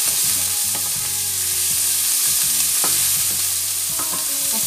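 Spring onions fry in a pan with a little fat, for a salt cod and okra stew; a steady, close sizzle runs throughout, with a repeated utensil scrape and tap marking the stirring, and no talk.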